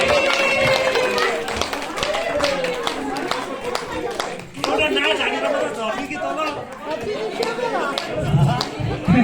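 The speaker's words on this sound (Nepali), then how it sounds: "ल ताली बजाउनु होला ताली उहाँले" Clapping from an audience at a Thakali community New Year gathering rises among busy crowd chatter, with a person speaking loudly over the scattered applause.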